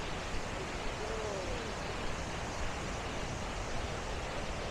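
Kuang Si waterfall near Luang Prabang, Laos, heard as a dense, steady wash of falling water with a continuous hiss, moderately loud and unbroken, a brief faint voice-like tone rising briefly over it.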